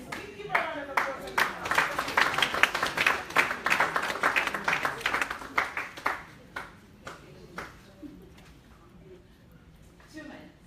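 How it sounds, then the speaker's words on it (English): A room at a women's summit erupts in applause for a speaker, dense rapid clapping building and holding for several seconds, then thinning to a few scattered claps as the room quiets. "Give her a round of applause."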